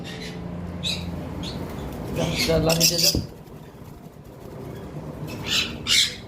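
Sun conures and cockatiels kept for sale squawk and chirp in bursts, sharp shrill calls rising over someone speaking nearby, with a louder cluster of cries near the end.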